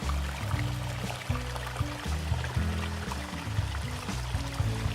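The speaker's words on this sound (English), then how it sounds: "The creek flows over the rocks, creating a waterfall that cascades about 100 metres into a pool at the base of the cliff." A creek spills over rocks as Erith Coal Mine Falls, a roughly 100-metre cliff waterfall, cascading into a rocky pool at its base; a constant, loud rushing roar with no voices.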